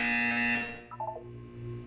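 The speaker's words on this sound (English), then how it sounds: "You will hear a buzzer." The Portal 2 test buzzer sounds as a loud steady electronic tone for over half a second, then fades under a low hum with a few faint beeps.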